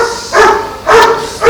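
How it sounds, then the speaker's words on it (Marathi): A dog barks outdoors in a Konkan village, three loud, close barks spaced evenly about half a second apart, each a short harsh burst, with no one speaking. "पण तो भुंकतोय."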